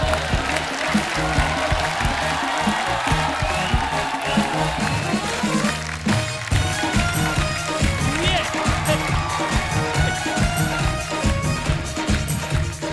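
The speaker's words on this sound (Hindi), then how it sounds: "आप सबकी जोरदार तालियों के बीच आओ शक्ति कपूर साहब" Studio audience on a Hindi television show applauds loudly and continuously to welcome a guest, with music and voices mixed throughout.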